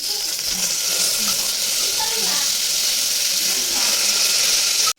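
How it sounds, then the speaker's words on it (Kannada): Two medium onions and green chilies fry in a pan, giving a steady, close sizzle and hiss that runs unbroken for several seconds before cutting off abruptly. "ನೆಕ್ಸ್ಟು ಮೀಡಿಯಮ್ ಸೈಜ್ದು 2 ಈರುಳ್ಳಿ ಮತ್ತು ಮೆಣಸಿನ್ಕಾಯಿ ತೊಗೊಂಡಿದ್ದೀನಿ. ಇದನ್ನು ಚೆನ್ನಾಗಿ ಫ್ರೈ ಮಾಡ್ಕೊಳ್ತೀನಿ."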